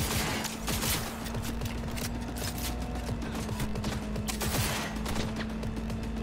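Rapid gunfire in the video game Cyberpunk 2077, a dense continuous burst of shots layered over a steady game music drone, loud and unbroken for several seconds.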